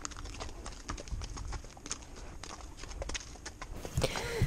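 A horse's hooves clop in a steady walking rhythm close by outdoors, the repeated thuds clear over a rough ambient background, with a brief whinny-like sound near the end.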